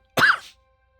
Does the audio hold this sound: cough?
yes